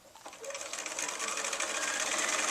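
A sewing machine runs a quarter-inch seam joining crazy log cabin quilt rows, its steady rapid needle clatter starting up and holding an even, continuous whir close by.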